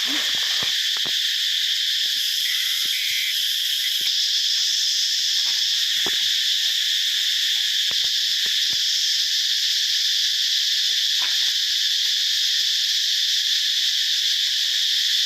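Cicadas call high up in the trees in rural Laos, making a dense, continuous, shrill drone that never lets up; faint scattered rustles and knocks sit far beneath it.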